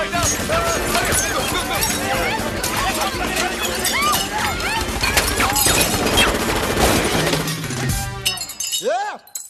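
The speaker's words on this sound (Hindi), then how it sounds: "गोलियां कौन चला रहा है रे?" Chaotic crashes of breaking glass and sharp bursts of rapid gunfire in a Bollywood comedy film scene under shouting voices, ending in a few descending whistling tones.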